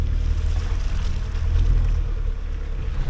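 Toyota Land Cruiser 250 climbing slippery steps off-road, a steady low engine rumble with rough, broadband churning noise throughout, loud and continuous with no talking.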